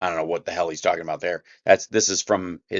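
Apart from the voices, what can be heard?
No everyday noises stand out.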